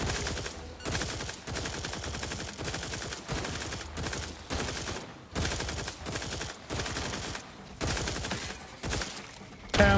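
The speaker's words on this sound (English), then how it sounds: "I was just wondering who was still shooting." Sustained automatic gunfire in the video game The Outer Worlds 2, dense rapid bursts rattling continuously for the full stretch with brief gaps, loud and close, with no speech over it.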